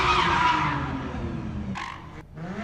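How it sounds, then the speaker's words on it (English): Cars spinning donuts at a downtown Chicago street takeover, tires skidding and squealing in a loud continuous smear over revving engines, easing briefly before another screech near the end. "A viewer shared this video showing cars doing donuts as fireworks go off."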